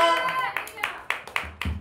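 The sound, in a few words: congregation clapping in church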